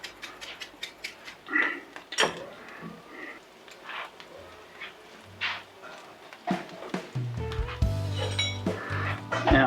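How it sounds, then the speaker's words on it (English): Garlic and spice going into a pan, with close clinks of utensils against metal, light scraping and clattering, and a thicker rattle of cookware toward the end. "into the pan, some garlic, a little bit of Tommy spice"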